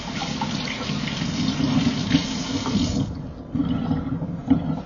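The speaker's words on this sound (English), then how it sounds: "Now I gotta wash my hands." Water runs from a tap into a sink during handwashing, a close, steady splashing rush with brief shifts as hands move through the stream, and no talking.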